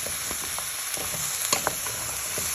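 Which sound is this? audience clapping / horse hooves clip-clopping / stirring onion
stirring onion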